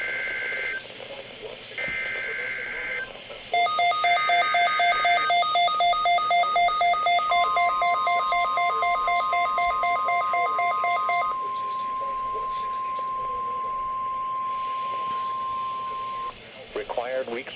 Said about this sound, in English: The preceding signal was a test of the NOAA Weather Radio Public Warning System